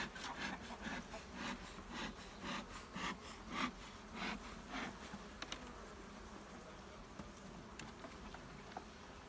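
Honey bees at an opened hive during an inspection, a faint buzzing hum with rhythmic rubbing or scraping pulses in the first half, quieter and steadier afterward.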